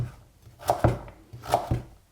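A knife taps against a cutting board in a few quick, close chops, cutting celery into small cubes, two pairs of strokes with a brief pause between.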